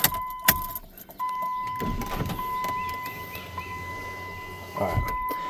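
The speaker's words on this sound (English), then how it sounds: "And I took my keys out." Keys jangle in and around a Ram pickup truck, with metallic clinks at the start and later, alongside a steady electronic chime tone and soft cabin handling noises.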